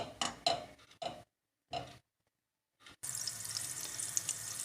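Oil and a spoonful of butter melting in a pan, first a few separate spitting crackles split by silences, then a steady, continuous sizzle that fills the rest.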